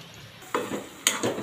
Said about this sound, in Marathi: आता मी हे चांगलं परतून घेते